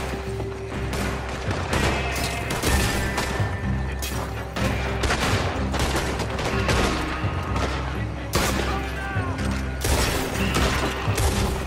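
Dense, continuous gunfire in a Red Dead Redemption 2 shootout at an oil works, with rapid overlapping shots and bursts sustained loudly throughout, mixed with crashes and booms.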